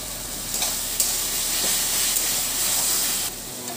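Tomato masala cooking in oil in a pan for Bengali katla fish kalia, a steady soft sizzle and hiss with faint stirring scrapes, close and continuous, no voices.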